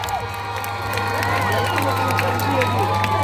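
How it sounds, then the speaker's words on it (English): A crowd at a passing out parade for a military batch cheers and shouts continuously, with excited voices over a low steady hum. Faint clapping runs underneath. "give them a round of applause"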